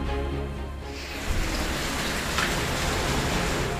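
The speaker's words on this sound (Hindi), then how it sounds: "अगस्त के आखिर में पहाड़ पर बारिश मुसीबत बनकर बरस रही है" Heavy late-August rain pours in the mountains of Dharchula, Pithoragarh, a dense, steady, close hiss of water that fills the whole stretch without pause.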